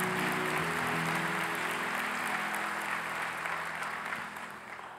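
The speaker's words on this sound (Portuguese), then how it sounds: "Você pode aplaudir a Jesus mais uma vez aí?" A church congregation applauds during a sermon, a soft, wash-like spread of many hands heard at a distance, holding steady before easing off toward the end, with a faint low hum underneath.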